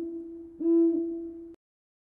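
One low, steady owl hoot holds for about a second, clear and close, then cuts off into silence.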